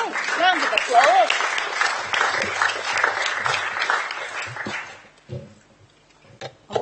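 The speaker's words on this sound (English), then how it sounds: "Round of applause." Applause at a Sheffield City Council local area committee meeting, a moderate burst of clapping for about five seconds that then stops, leaving a quiet room with a few faint sounds.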